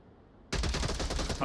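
Sudden burst of rapid automatic gunfire in the VR shooter Onward, loud and close after a quiet moment, continuing in a dense volley.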